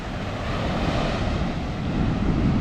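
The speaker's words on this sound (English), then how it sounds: "I think it's actually the ocean's out there where it breaks further out, and it's actually quite noisy" Ocean waves breaking on a reef far offshore, a constant low roaring rumble with wind buffeting the microphone, steady and unbroken throughout.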